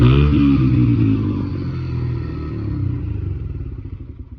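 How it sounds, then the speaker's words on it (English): A motorcycle exhaust running with its baffle removed, a loud, close, throaty idle with deep lumpy pulses that ease slightly lower over a few seconds, alone without talk. "So this is how she sounds now."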